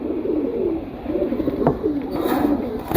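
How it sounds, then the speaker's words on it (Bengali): Pigeons coo close by in soft, low, rolling calls that repeat, with a faint rustle and a sharp tap midway. "এই চারটা কবুতর একই ফ্যামিলির কবুতর"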